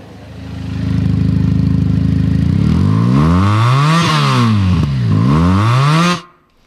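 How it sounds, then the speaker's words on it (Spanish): Italian motorcycle engine idling, then revved hard in repeated rising and falling sweeps, loud and close, before it cuts off abruptly. "¿Qué tal ese sonido? Vamos a escucharlo. Es un sonido que aparenta ser de una moto más grande."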